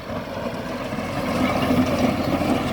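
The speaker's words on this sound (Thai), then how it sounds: "มาแล้วครับรถไถ แท็กเตอร์คันนี้คันใหญ่ครับ57แรงนะครับ" A large 57-horsepower farm tractor used to till rice fields runs with a steady, moderately loud, low engine drone that holds without a break.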